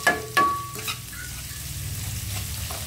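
Onions and garlic sauté in a pan for a chicken curry, with a couple of sharp utensil clinks against the pan up front, then a steady close sizzle and light stirring.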